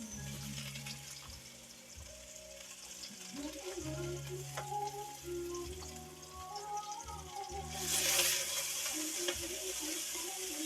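Onions are sautéed with garlic and ginger in a pan for Bicol Express. The sizzle is steady and close, with stirring scrapes and a brief louder hiss of fat near the end.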